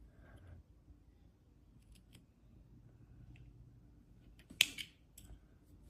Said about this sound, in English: I'm gonna use some scissors to cut it.